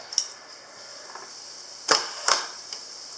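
A Kiev 6C medium-format camera from Ukraine fires its shutter at a half-second speed, with a soft click, then two sharp mechanical snaps about half a second apart, close up and otherwise quiet.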